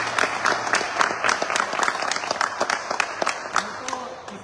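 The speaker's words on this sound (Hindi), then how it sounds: "एक जोरदार ताली अंकुर जी के लिए होनी चाहिए" Loud, continuous applause from an audience at a car delivery celebration, with sharp individual claps standing out in a dense steady wash and some voices mixed in.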